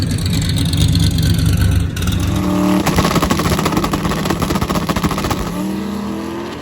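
Race cars hot lapping a track, loud engines roaring and revving as they pass close by, with rising and falling pitch and a rapid, rattling exhaust burble, steady and without talk.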